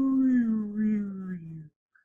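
A voice imitates a siren moving away, one long sustained tone sliding gradually lower in pitch and fading before stopping.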